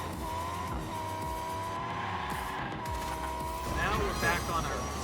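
Super Pro car racing in Hot Wheels Unleashed, the Monster Trucks DLC expansion on Switch: a steady engine drone with brief tire squeals and skids, loud and continuous, with a player talking over it.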